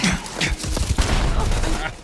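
A grenade explosion in the video game Starfield, heard as a dense burst of booming blasts and crackling impacts mixed with gunfire-like pops, loud and close for about two seconds.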